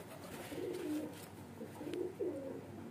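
A baby highflyer pigeon from a line of oode (lavender) pigeons coos in soft, rolling phrases, two or three close bursts in a row over faint background hiss.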